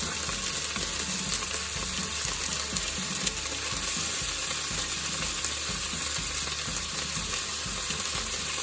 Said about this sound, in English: I'm just gonna sit these in here